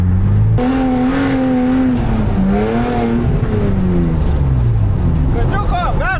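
A car engine in snowy winter revs repeatedly as the gas pedal is pressed, its loud, close drone climbing and falling in pitch, with a voice calling out now and then.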